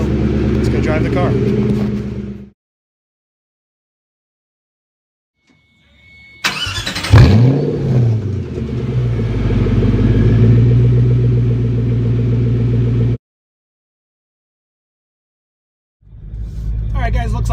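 Ford GT sports car engine running close by, a loud throaty growl that cuts off, then returns after a silent gap with a sharp rev and a sustained roar, before another abrupt silence and a fresh rumble at the end.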